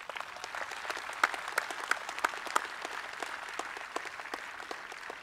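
Scattered, moderately distant applause at a Global War on Terrorism memorial rededication ceremony, honoring the Patriot Guard, band and color guard, with individual claps standing out in an uneven, thinning rhythm.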